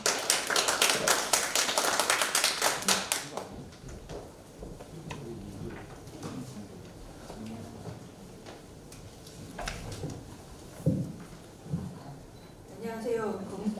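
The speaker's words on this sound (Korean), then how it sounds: "여러분 박수로 맞이해 주시기 바랍니다" Applause from an audience at a real estate industry day paper presentation event, dense clapping for the first few seconds then fading into scattered taps and murmuring.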